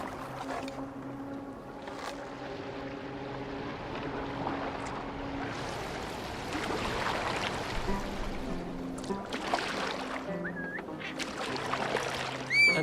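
A Viking longboat steered across water in Assassin's Creed Valhalla, with a steady wash of water and creaking hull running throughout and a few swelling surges, heard alone without talk.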